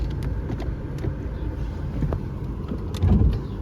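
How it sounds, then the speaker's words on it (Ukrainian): Low engine rumble of an Audi A3 with a 1.6 petrol engine and automatic gearbox moving off, steady and close, swelling briefly louder near the end. "Пускаюсь і машинка поїхала"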